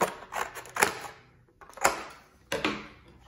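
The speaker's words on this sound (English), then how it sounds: "So I'm gonna take my scissors and cut this part of it off." Scissors snipping through a paper floss tag in three sharp, separate cuts close up, each a crisp click-and-slice against a quiet background.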